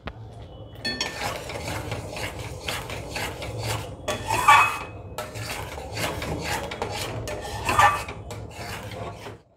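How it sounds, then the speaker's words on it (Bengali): A spoon scrapes and rubs in repeated strokes through pointed gourd curry with yogurt and spice in a pan. The stirring sounds close, gritty and steady, with no talk. "এবারে খালি নাড়বো"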